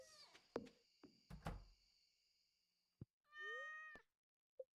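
Cat meowing in the video game Stardew Valley, with a couple of short mews and thumps early on, then one clear drawn-out meow near the end, followed by a tiny chirp, in otherwise quiet game audio.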